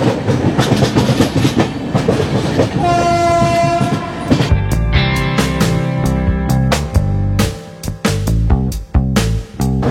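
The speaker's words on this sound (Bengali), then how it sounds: "আর আমরা ঢুকছি আসানসোল জাংশন।" Dehradun Howrah Superfast Express (12370) pulling into Asansol Junction: loud rail rumble and clatter with a sustained horn blast partway through, followed by heavy rhythmic wheel clacking close by, no talk.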